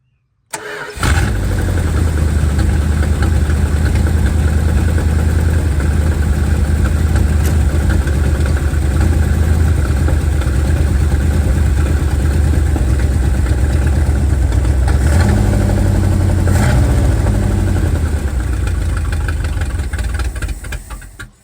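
An old Mopar car engine, dug out of the woods, fires up and settles straight into a loud, steady rumbling idle that runs about twenty seconds before cutting off.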